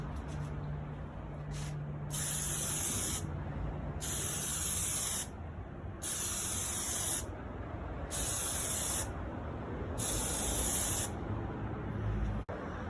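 Plasti-Dip sprays from an aerosol can onto a Tesla Model Y emblem in six close, loud hissing bursts of one to two seconds each, separated by short pauses.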